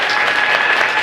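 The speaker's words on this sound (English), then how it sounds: "Clap his hands, clap his hands." A live podcast audience claps hands in a dense, steady burst of applause, loud and close, with no talk over it.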